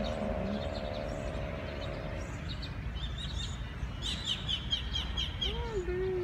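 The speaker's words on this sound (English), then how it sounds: "Oh, birds!" Birds chirp at Paco Park, a garden cemetery, giving a cluster of short, bright, high tweets at moderate distance over a steady low outdoor hum.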